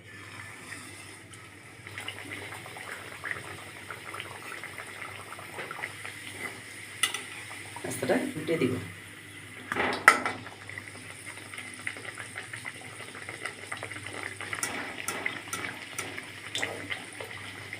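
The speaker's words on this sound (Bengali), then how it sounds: "এখন তেলে দিয়ে ভেজে নিব।" Stuffed potato-and-flour snacks deep-frying in hot oil in a wok, giving a steady soft bubbling hiss with a few louder splashy bursts as pieces go in or are turned, and a brief spoken remark over it.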